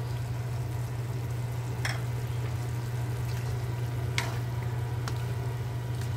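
Bottle gourd and chicken stir-frying with oyster sauce in a pan, a steady low sizzle and hum with occasional scrapes and clinks of stirring. Close and even, with no voices.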